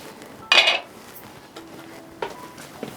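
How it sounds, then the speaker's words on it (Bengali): A metal wok set down on a home stove while cooking a Bengali bottle gourd milk dish, giving one loud clattering clank of pots, then a couple of fainter knocks and clinks. "তাহলে আমি একটু কড়াই বসিয়ে দিই।"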